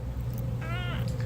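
A cat gives a single short meow at close range over a steady low hum, lasting under half a second.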